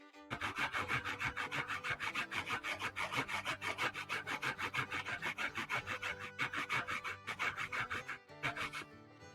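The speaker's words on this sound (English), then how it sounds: "flip the old saw over and use the rougher blade where we can get a little more bite and go a little quicker" Rough side of a hand saw rasping back and forth through a plastic guitar body, fast regular strokes close up with brief pauses between runs.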